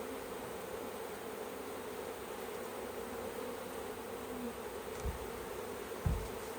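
A swarm of honeybees buzzes steadily in a bush, a dense continuous hum close by, with a couple of brief thumps near the end.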